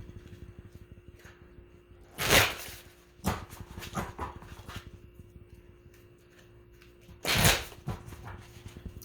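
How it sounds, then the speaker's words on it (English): Tarot cards being shuffled in a few quick riffling bursts, two louder than the rest, with softer card handling and light rustling between them in a quiet room. "Okay, one more shuffle."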